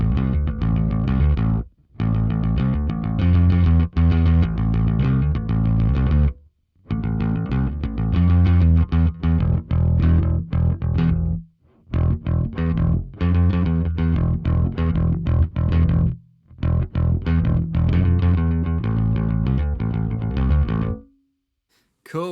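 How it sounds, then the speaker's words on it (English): Heavily distorted, fuzzy bass guitar through a Brainworx Ampeg SVT-VR Classic amp plugin, playing aggressive riffs in bursts with brief pauses, loud and gritty with no talking. "now we're getting more kind of really aggressive fuzzy bass."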